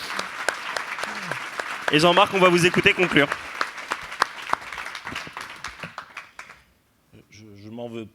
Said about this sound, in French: Si vous trouvez qu'ils ont été bons, vous pouvez les applaudir.